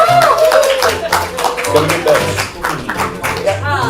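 Studio audience at a ComedySportz Portland improv comedy show claps to welcome the guessers back into the room, a dense close patter of applause mixed with voices and cheering calls over the top.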